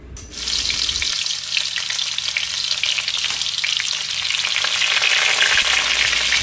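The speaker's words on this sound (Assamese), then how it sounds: "এয়া কেৰাহী গৰম হৈ আছে, মই আৰু তেল দি দিলোঁ ইয়াত" Loud, steady sizzling of hot oil in a wok, continuous and close throughout with a bright crackling hiss.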